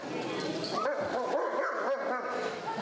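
Dogs at a pool dog-swim fundraiser bark, yip and whimper excitedly in a busy, overlapping chorus close by, with people talking throughout.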